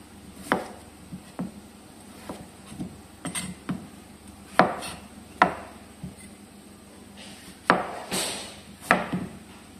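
Potatoes chopped with a knife on a board while preparing Delhi-style mutton dum biryani: a dozen or so sharp, irregular knife strikes, close and fairly crisp, with short pauses between cuts and no talking.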